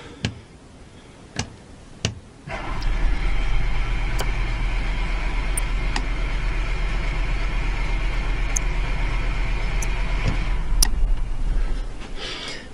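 An Onan 4000 generator starts after a few sharp clicks, then settles into a steady, loud, close running drone that holds evenly to the end, with no voices.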